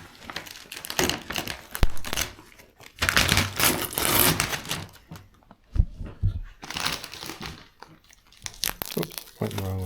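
Covering being peeled off a freshly repainted 1976 BMW 2002, heard as close, loud tearing and crinkling bursts in several pulls with short pauses, while someone talks between them.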